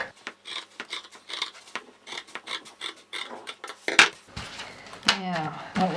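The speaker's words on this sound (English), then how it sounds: "We're just going to trim that pocket fabric back to about 1 centimetre or so." Scissors snip back pocket fabric on a travel sling bag during sewing, a run of short, crisp cuts close by in a steady rhythm, with a few louder clatters near the end.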